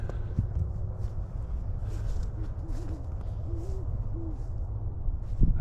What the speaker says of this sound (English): That is not a dove, that's an owl, I hear.